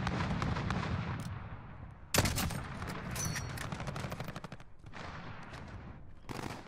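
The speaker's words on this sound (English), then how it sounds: "I don't know who just shot at me." Gunfire in Modern Warfare Ground War: rapid automatic bursts and scattered shots at varying distances, one sharp loud crack near the middle, continuing in close, rattling volleys.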